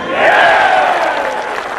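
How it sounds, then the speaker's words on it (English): A golf gallery roars loudly after a birdie putt on the 18th green, a broad swell of cheering that peaks early and slowly fades over a couple of seconds. "And the roar of the crowd tells you it's good."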